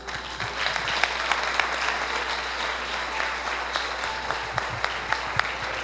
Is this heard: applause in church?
yes